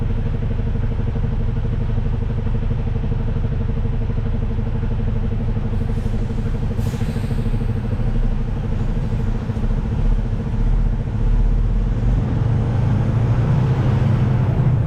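A truck in first gear climbs a steep humped San Francisco hill, its engine a loud, steady low rumble and drone close by, with clattering and road noise throughout and no talking.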